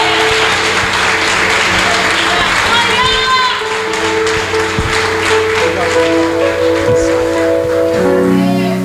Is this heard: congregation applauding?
yes